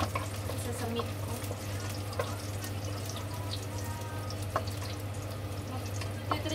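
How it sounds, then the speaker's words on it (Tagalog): Pork cutlet pan-frying at home gives off a steady, even sizzle over a low electrical hum, with occasional faint clicks and taps from the pan. "Ipapan-fry ko lang yan."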